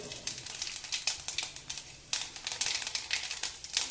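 Mustard seeds and cumin dropped into hot oil crackle and sizzle steadily, a dense fizzing with sharp little pops that swells again midway through, close and moderately loud with no voices.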